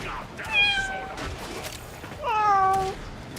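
Inside a video game, a cat meows from behind a door, two separate meows about two seconds apart, clear and moderately near over a quiet background.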